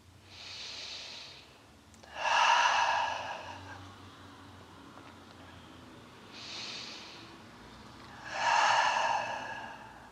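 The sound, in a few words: deep breathing during yoga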